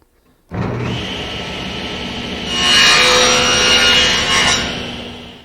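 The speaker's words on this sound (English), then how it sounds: "With the miter gauge swung around to 45 degrees, I'll make the 1 miter cut on each of the 4 pieces." A table saw with its miter gauge set to 45 degrees makes a miter cut in a wooden piece: the motor starts abruptly, then the blade's whine swells into a louder, rasping bite through the wood before easing off.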